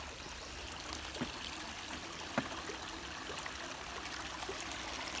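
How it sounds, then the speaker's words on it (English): A small creek flows steadily at a footbridge crossing on the Appalachian Trail, a soft continuous rushing and trickling of water with a couple of faint clicks, no voices. "This is the second nice little creek crossing I've seen today."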